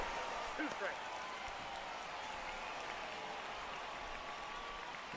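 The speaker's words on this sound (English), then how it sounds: "the crowd's cheering about something" A baseball crowd in the late innings of a game between the Washington Monuments and the Columbus Aviators cheers as a steady, distant roar with broadband noise. It stays even throughout, with faint talk briefly audible near the start.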